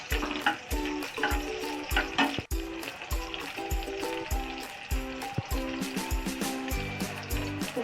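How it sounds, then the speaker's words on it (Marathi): Garlic frying in hot oil for a village-style mustard greens dish, a close sizzle broken by repeated rhythmic scraping and stirring knocks of a utensil against the pan. "लसणाला थोडं परतून द्यायचं चांगलं लालसर."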